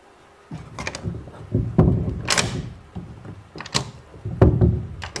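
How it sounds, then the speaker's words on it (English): A door in a scary video creaks and thuds open through several seconds of scraping, knocking movement, with louder bumps scattered irregularly, close and fairly loud, with no talk. "the door's going to open"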